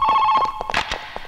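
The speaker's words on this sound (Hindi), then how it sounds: "तेरे घर में फोन की घंटी बज रही है" A telephone bell rings in a house in a Hindi film climax scene, a loud, steady electronic trill sounding alone across the short clip.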